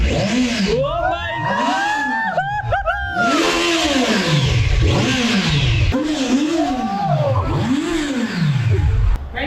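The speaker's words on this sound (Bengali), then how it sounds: "থ্রটল দে একটু। একটু গরম হোক" A superbike engine revs hard again and again under throttle, each rise and fall loud and close, with a voice calling out now and then.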